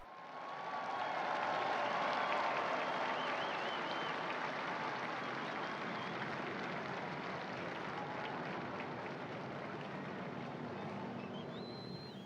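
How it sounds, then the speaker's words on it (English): A large crowd in St. Peter's Square applauds as Pope Francis appears at the window for the Angelus, a dense, sustained wash of clapping from a distance, swelling early and then holding steady with faint whistles and cheers. "We join the crowds as they applaud and welcome the Holy Father."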